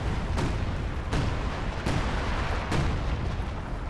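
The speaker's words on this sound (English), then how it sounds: "Oh, he's dropping artillery in the base." An artillery barrage landing in a base during a World War II real-time strategy battle, with four or five evenly spaced heavy impacts booming over a dense, continuous rumble of battle noise.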